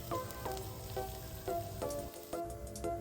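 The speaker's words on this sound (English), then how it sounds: "Now saute them until they turn golden brown and aromatic." Minced ginger and chili flakes sauté in a pan with a soft, continuous sizzle. Faint rhythmic clinks of a utensil against the pan recur every half second or so.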